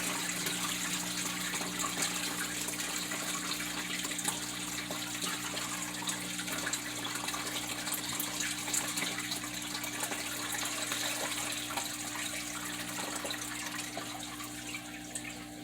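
Steady, continuous splashing of water pouring into an aquarium tank, an even rushing wash with a low hum underneath, no voices.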